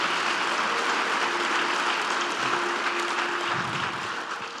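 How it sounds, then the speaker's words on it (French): Congregation applauding for the king during a church sermon, a dense steady wash of clapping that holds strong throughout and tapers slightly at the end, with a faint sustained tone underneath. "Denle un aplauso al rey."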